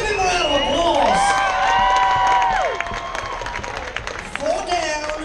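A studio audience claps and cheers for a hairy-chest contest contestant, a loud dense burst of applause with whoops that holds steady, then thins slightly toward the end.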